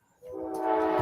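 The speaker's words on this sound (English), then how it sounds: "The train goes by." A train rolls past after a brief quiet start, its horn sounding as a loud, sustained harmonic blast that swells and holds to the end, with low rumble underneath.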